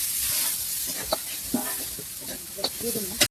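A soft sizzle of potatoes and peas frying in spices in a pan, with a few light scrapes and knocks of a spoon stirring now and then.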